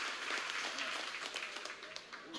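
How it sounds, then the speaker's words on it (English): Audience applause at an arm wrestling event, a steady wash of clapping from a crowd lasting the whole stretch, moderately distant and even. "So round of applause for staying where we are."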